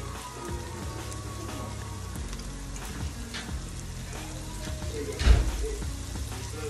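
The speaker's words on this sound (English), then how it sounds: "And now you're gonna cook the flour because you don't want it to taste like flour" Seasoned flour cooking in a pan with onions and bell pepper for chicken gravy gives a steady soft sizzle throughout, with a brief louder scrape or clatter near the end and no talk.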